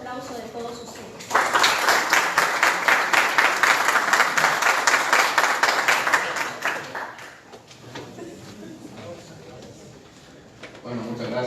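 A seminar audience claps warmly in a loud, steady burst of applause lasting about six seconds before fading, after which a speaker begins talking and the room settles.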